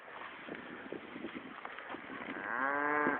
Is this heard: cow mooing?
yes